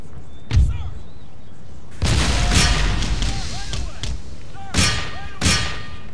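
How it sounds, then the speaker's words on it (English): Mortar fire during an Empire Total War battle, several heavy booming blasts spaced irregularly over a constant rumbling battlefield din, with whistling shells and distant shots mixed in. "The only thing we've got here now is these mortars, which are an absolute menace."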